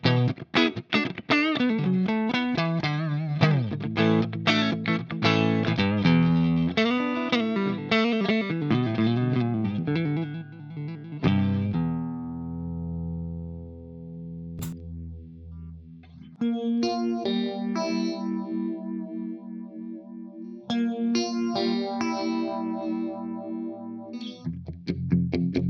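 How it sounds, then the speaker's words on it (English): A clean, warm electric guitar through a Mesa Boogie Dual Rectifier Roadster amp's fat clean channel plays chords and melodic runs with a chorus-like shimmer, notes ringing out, then a sustained chord decays before playing resumes. "And now fat, the exact same settings."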